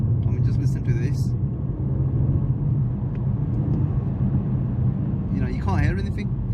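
Inside the cabin of a BMW M140i with its standard exhaust, the engine gives a low, steady, muffled drone throughout, with someone talking over it at the start and again near the end.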